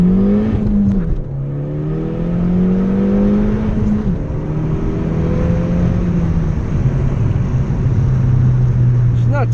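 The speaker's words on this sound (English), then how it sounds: "we'll do a first gear pull here" A Ford Fiesta ST with about 4,000 miles pulls hard in first gear, the engine note climbing steadily from inside the cabin with a short dip at the shift, loud and continuous under a voice.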